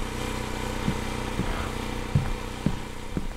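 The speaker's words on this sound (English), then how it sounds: "that's a loud fucking generator" A loud generator in a video game runs with a steady low engine drone, broken by a few sharp knocks and surges at irregular intervals, close and alone without any talk.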